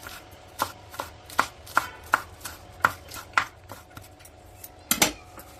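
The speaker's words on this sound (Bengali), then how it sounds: "আমি চাকু দিয়ে কুচি কুচি করতেছি" A knife finely chops kalai shak greens on a cutting board in a home kitchen, giving a series of crisp, evenly spaced close-up chops with a brief clatter near the end.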